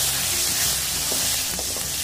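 Chopped onions fry in a pan for a potato eggplant curry, giving a steady, close hiss of sizzling oil with a few faint stirring clicks.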